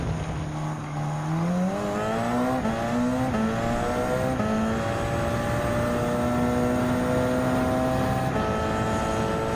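Gr.1 race car engine howling at Le Mans in Gran Turismo 7, a loud, steady high-revving drone whose pitch climbs through the gears with brief shift dips, alone without talk.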